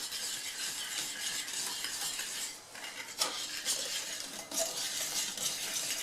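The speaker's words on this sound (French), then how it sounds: "Et là, je viens remuer, toujours blanchir je vais blanchir la préparation en fait." Eggs, yogurt and sugar beaten together in a bowl for a yogurt cake, a busy close-up scraping and whisking with utensil clinks, one brief pause midway.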